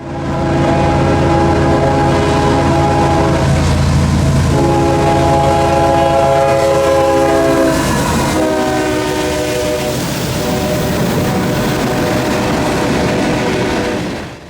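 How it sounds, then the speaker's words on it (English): Freight train Q452 rumbles past close by, northbound through Folkston with Union Pacific locomotives leading, sounding long horn blasts over the steady roar of locomotives and rolling wagons. "train Q452 was coming north with some Union Pacific power up front"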